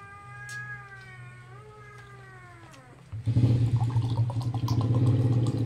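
A cat meows in a long drawn-out cry, then a louder, rougher yowl follows with a rumbling low hum.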